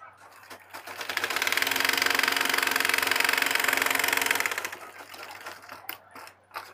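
A sewing machine runs in one steady, loud burst of rapid stitching while a trouser-style pajama is finished along its final seam. The burst slows and stops, and a few softer mechanical clicks and handling sounds follow.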